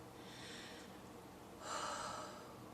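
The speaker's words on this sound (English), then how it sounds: "stop, take a deep breath" A person takes two deep breaths, one slow inhale followed by a fuller, louder one, soft and close in an otherwise quiet room.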